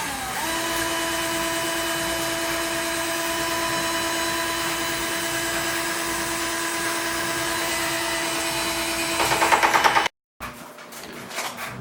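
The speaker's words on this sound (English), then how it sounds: "then we'll get our drill and we'll stir that all up" A power drill stirring a chokecherry wine mixture whirs steadily and loudly for about ten seconds, rising briefly in pitch before cutting off abruptly.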